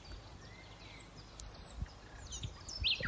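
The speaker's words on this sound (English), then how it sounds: "Listen to the bird song." Birdsong in the distance: scattered chirps and a few brighter whistled calls over quiet outdoor background, growing a little louder near the end.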